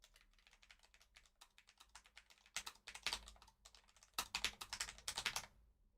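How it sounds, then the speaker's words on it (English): Fast typing on a computer keyboard, close and clear, with irregular clusters of clicks that grow louder and denser toward the end before stopping, no talking. "Also, how loud is my typing?"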